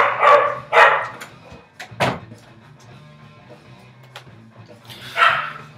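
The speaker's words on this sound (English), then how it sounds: "Sorry about the dogs." Dogs bark several times near and loud in sharp bursts at the start, then once more at the end, with a short yelp between and a low hum underneath.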